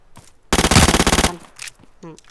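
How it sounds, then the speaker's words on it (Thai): A single loud burst of rapid automatic gunfire in PUBG Mobile rattles for under a second, close and sharp, followed by quieter scattered sounds. "เสียงปืนมา"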